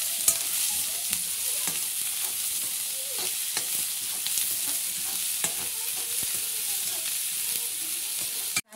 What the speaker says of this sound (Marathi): आता हा व्यवस्थित असा परतून घेऊया.